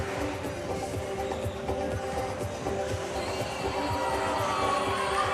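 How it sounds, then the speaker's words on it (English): Spectators at a National Squash League match between the Sono Sharks and Seattle Freeze let out a sustained, dense crowd murmur of disapproval, steady and fairly loud throughout, with some voices standing out from the mass. "Crowd not liking that one."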